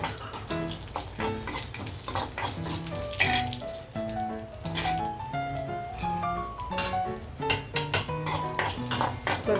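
Cashews and raisins fry in ghee for ravva kesari, stirred in a pan. Metallic clinks and scrapes of the spoon against the pan repeat under a faint sizzle, largely masked by loud background music.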